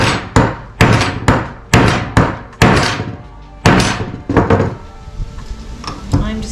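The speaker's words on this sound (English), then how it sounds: "then you hold the wire and then you hammer the heck out of the top" Sharp, heavy metallic hammer blows strike a wire crimp tool repeatedly in a steady rhythm, about a dozen loud, close hits ringing briefly before the next.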